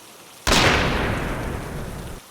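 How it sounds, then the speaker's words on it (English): A single gunshot cracks out loud and sudden in a rainy forest, its sharp burst trailing into a long rumbling decay over the steady patter of rain. "there was a gunshot."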